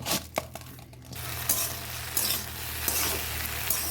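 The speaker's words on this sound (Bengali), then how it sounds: "ভেন্ডি ভাজা হচ্ছে" Okra frying in a pan at home, a continuous sizzle broken by several sharp clicks and scrapes of a spatula against the pan, close and clear, no voices.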